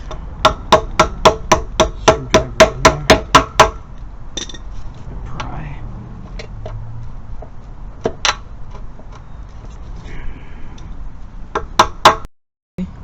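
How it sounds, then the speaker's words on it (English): A rapid run of about a dozen sharp hammer strikes rings out close by while fitting a Jeep WJ 4.0L valve cover gasket, followed by a few scattered knocks and taps after a pause. "Use something to hammer with."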